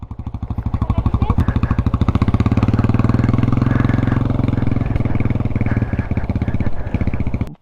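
A Yamaha Raptor 250 quad bike engine revs loud and close in first gear as a learner rider pulls away, a steady throbbing drone that swells and holds with rattly clatter.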